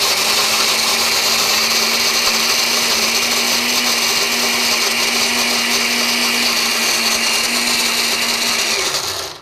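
Kitchen blender running at high speed while blending chocolate chips: a loud, steady motor whine and grinding roar that holds constant for several seconds, then cuts off at the end.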